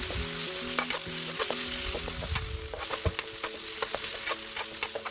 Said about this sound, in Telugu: తర్వాత హాఫ్ టేబుల్ స్పూన్ ఆఫ్ అల్లం వేసుకొని ఫ్రై చేసుకోవాలి